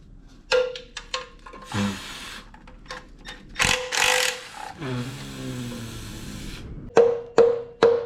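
Hand tools removing the oil pan from a Nissan D21 pickup, with close, sharp metallic clicks and ratcheting in irregular bursts, a longer whirring stretch in the middle, and a few loud clanks near the end.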